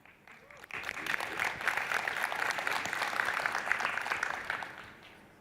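Audience applause welcoming a speaker at a cloud technology conference session, a steady burst of clapping that starts abruptly, holds dense and even for several seconds, then fades out.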